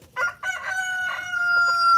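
A small silkie rooster crows loudly and close, one stretched, wavering cock-a-doodle-doo with a few clucking notes at the start, lasting about two seconds with no talk.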